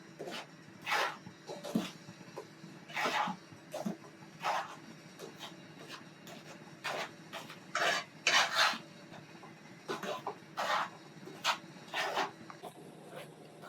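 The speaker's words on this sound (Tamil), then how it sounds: "மீடியமான தீயில வச்சு வறுத்து எடுத்துக்கோங்க." Flour dry-roasted over medium heat in a hot kadai for poorana kozhukattai: a spoon scrapes and rasps against the pan in about a dozen short, close bursts with small pauses between strokes.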